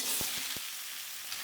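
Cucumber pieces tossed into hot oil for a thin hilsa and cucumber curry, giving a steady, close hiss of sizzling frying with a few soft thuds as it goes in, no talk.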